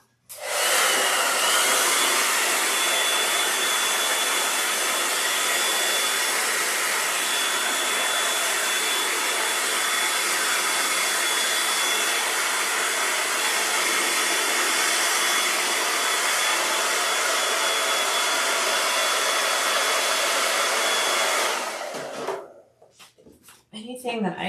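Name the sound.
heat tool blasting hot air on a sewn handbag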